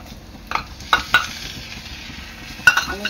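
Ground ridge gourd paste for chutney being sautéed in a pan, with soft sizzling under scraping stirs and a few sharp clinks of a spatula against the metal.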